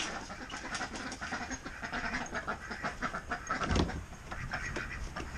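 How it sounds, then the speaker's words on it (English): Ducks scrambling about near a small backyard duck house, with busy shuffling, flapping and faint quacks in a steady noisy jumble and a brief louder thump near the end. "Hell, duck stampede there."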